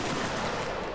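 A musket volley from an infantry line of the 33rd Regiment of Foot in a line-battle video game, a dense, loud crackle of overlapping shots sustained throughout without a break.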